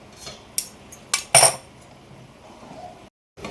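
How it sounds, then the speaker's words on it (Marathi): The metal lid comes off a pot of eggplant curry cooking on a gas stove, giving a few sharp clinks and one brief scrape close by, then quiet. "झाकण काढून घेतलं."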